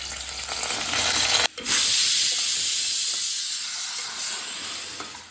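Cut potatoes and cumin seeds dropped into hot oil, loud and close: a sudden bright rush of hissing sizzle after a brief clatter, settling into a steady frying crackle that slowly eases.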